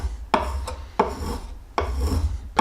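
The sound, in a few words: small compass plane cutting fine wood shavings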